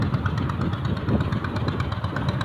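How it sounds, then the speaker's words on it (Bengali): A fishing boat's engine on a river chugs with a steady low rumble at moderate distance, continuous and without talk. "দূরে একটা মাছ ধরা নৌকা আসছে"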